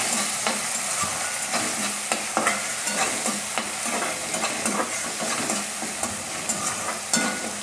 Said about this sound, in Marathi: आता यामध्ये मी टोमॅटो चिरलेला टाकणार आहे। टोमॅटो पण 1 मिनिटभराचा परतून घ्यायचा।